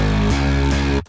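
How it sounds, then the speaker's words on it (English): A snarly, gritty synth bass line plays a sustained tone that steps to a new note partway through, loud and up front, cutting off abruptly at the end. "And a nice little snarly bass doubling that."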